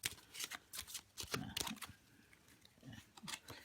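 Playing cards are shuffled overhand in quick, soft papery flutters that come in short bursts with brief pauses, close and quiet.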